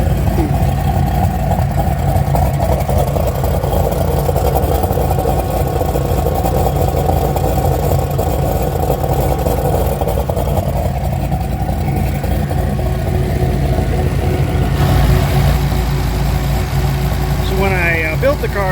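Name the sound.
turbo LS car engine idling with CO2-powered exhaust cutout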